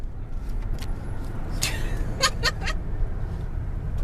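A car rolls along the road with a steady low engine and tyre rumble heard from inside, with a few faint interior clicks and squeaks over it.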